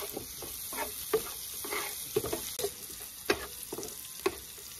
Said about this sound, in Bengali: রসুন কুচি দিয়ে দিচ্ছি, পেঁয়াজ কুচি, শুকনো মরিচ ও তেজপাতা দিয়ে দিচ্ছি।